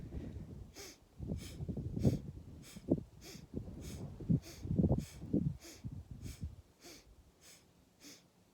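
Rhythmic yoga breathing, with about a dozen forceful inhales and exhales in a steady cycle, close and clear, each breath a short airy rush through nose and mouth.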